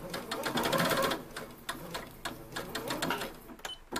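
A sewing machine runs in short bursts of rapid ticking as it stitches shirring elastic, then backs up with a reverse stitch. The sound is faint and close, with brief pauses between the runs.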